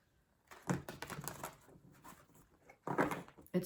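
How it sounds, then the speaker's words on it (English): A large, oversized deck of cards is shuffled by hand, giving close, quiet bursts of riffling and rustling card scrapes in a few separate passes with short pauses between them, and no talking. "it's a very big deck, so it's sort of hard to shuffle"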